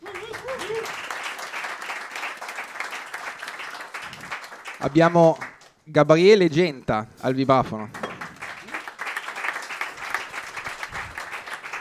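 An audience at a jazz octet concert claps steadily, a broad wash of applause that carries on under and around a man introducing the musicians.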